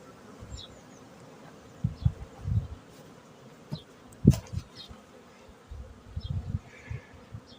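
Honeybees fly around their hive on a spring morning, on its shaded, cool side. A soft, continuous buzz is heard close by, with louder swells as single insects pass near. No one speaks.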